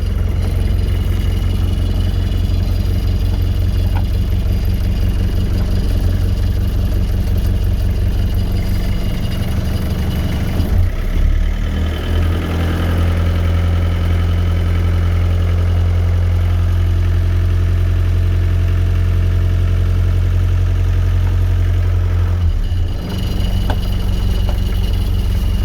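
A Land Rover engine idles steadily on its hand throttle, a constant low rumble with a deeper, louder shift in tone from about ten to twenty-three seconds, heard alone without talk.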